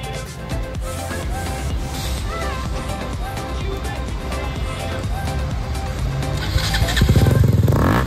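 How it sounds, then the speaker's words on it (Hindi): A KTM RC 390 motorcycle with its exhaust dB killer removed runs loud and close, a raw continuous engine roar that swells into a harder rev near the end. "सो अब ये जो साउंड आ रहा है ये बिना डीबी किलर के आ रहा है"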